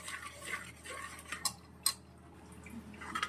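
Boiled dal for Gujarati dal dhokli is whisked in a pressure cooker, giving quiet, irregular clinks and taps of a utensil against metal with soft wet stirring between, close and faint.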